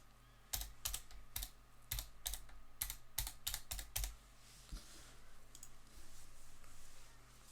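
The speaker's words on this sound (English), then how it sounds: "type in your name, and the meeting ID that was given to you in an email" Quick bursts of keystrokes on a computer keyboard, a name and meeting ID being typed, with irregular clicky taps for about four seconds before trailing off into quiet room hum.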